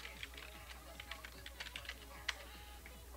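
Fingers type on a computer keyboard, entering a password with quick, light, irregular key clicks, faint and close, with one sharper keystroke near the end.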